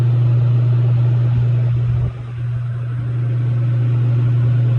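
A walk-in freezer motor with a blown-out body hums loudly and steadily, a strong low drone that dips briefly as it turns slowly.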